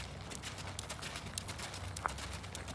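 A horse canters around a full circle in a riding lesson. Faint, rhythmic hoofbeats repeat in quick, even groups against quiet surroundings.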